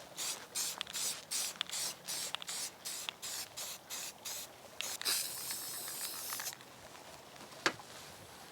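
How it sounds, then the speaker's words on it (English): Two pre-shaken spray paint cans hiss in short bursts, then one longer steady blast, putting a light coat onto sheet-metal Christmas decorations. The sound is close and fairly quiet, then ends with a single sharp tap. "I've pre-shaken both cans, and let's just get a light coat of each"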